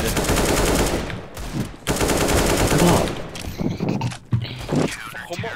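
Rapid automatic gunfire in Counter-Strike: Global Offensive, loud sustained bursts with short gaps, tailing into scattered shots and clatter with voices talking over it.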